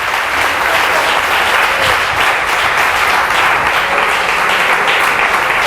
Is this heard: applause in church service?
yes